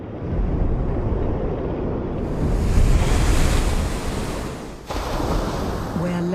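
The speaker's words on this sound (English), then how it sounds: "Where land meets sea, the repeated ebb and flow of tides carves solid rock to form tidal pools." Ocean waves surge and wash against a rocky shoreline where tides carve tidal pools, a loud, continuous roar of surf with wind buffeting the microphone and a brief lull before the wash resumes.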